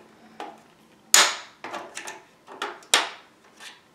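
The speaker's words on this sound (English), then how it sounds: "release this clip." Plastic retaining clip being pried loose on an Xbox 360 Slim motherboard with a small screwdriver, giving a series of sharp clicks and snaps, one louder crack followed by several lighter knocks, close and alone.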